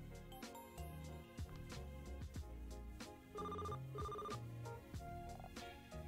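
A cell phone rings in a video game, its repeating electronic ringtone tones sounding over steady game music throughout.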